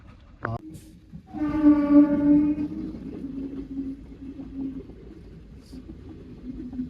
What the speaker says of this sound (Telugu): ట్రైన్ అయితే వచ్చేస్తుంది, చూపిస్తానండి.